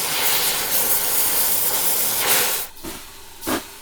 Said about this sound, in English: So we're gonna take the torch and put this piece together.